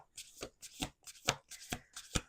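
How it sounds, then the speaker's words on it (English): Playing cards being riffled in repeated quick bursts, five or so crisp fluttering shuffles spaced evenly, close and clear. "We're going to do 2 more shuffles."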